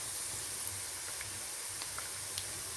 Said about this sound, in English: So this has been frying for some minutes now.